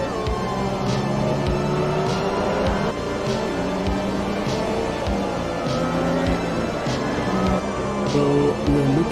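Formula 1 cars from the 2021 Spanish Grand Prix drone past on a race broadcast, a steady blend of engine tones rising and falling across the clip, with faint talk mixed in beneath the roar.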